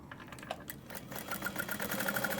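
A sewing machine stitches fabric for a small sewing-pattern project, its steady rapid needle chatter running continuously and close, building slightly louder toward the end with no voices.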